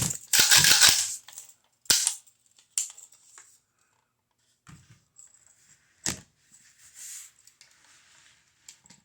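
A Honcho 410 gauge pump shotgun is cleared, with a sharp run of metallic clacks and ratcheting from the pump action, followed by scattered clicks and small handling knocks, close and alone.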